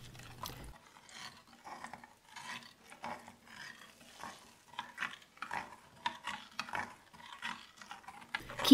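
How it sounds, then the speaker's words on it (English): A metal spoon stirring lemon curd mixture of eggs and lemon in a pan, making quiet uneven scraping and rubbing strokes against the base, close and continuous. "stir constantly with a metal spoon just to stop anything from sticking to the base"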